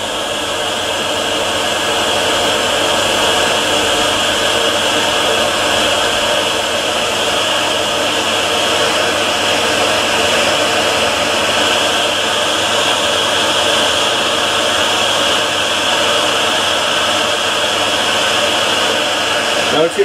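An electric dryer blows on a clay coil pottery bowl as it is turned, making a loud, steady, close whooshing hum that runs unbroken through the whole stretch.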